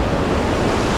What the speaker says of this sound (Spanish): Lleva tanta fuerza la cascada.